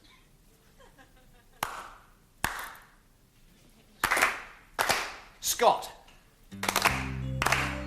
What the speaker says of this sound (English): I'll start clapping. 2 claps and a pause.